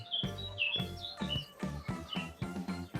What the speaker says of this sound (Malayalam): പ്രാവുകൾ, കോഴികളൊക്കെ ഉണ്ട് കേട്ടോ ഇവിടെ.